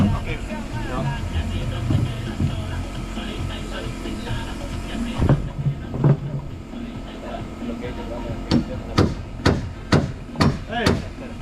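A hammer strikes a nail into a pressure-treated deck board in a quick series of sharp, close knocks, about seven blows near the end, after a stretch of mixed talk and work noise.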